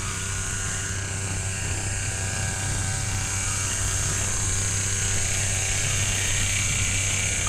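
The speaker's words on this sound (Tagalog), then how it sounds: "i-grass cutter dahil yung puno hindi na naabutan ng tractor, so kailangan ding linisin yung puno." Grass cutter clearing grass around fruit trees that a tractor cannot reach, a loud, steady, high engine whine and buzz that drones on without a break.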